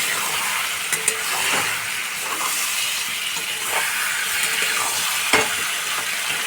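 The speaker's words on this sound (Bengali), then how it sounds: "এবার আমি সেদ্ধ করা আলুগুলো দিয়ে দেবো আমি এই মশলাটার মধ্যে" Boiled potatoes fried in a thick spice masala for alur dom: a continuous close sizzle and hiss broken by irregular stirring scrapes and soft knocks in the pan, with no talking.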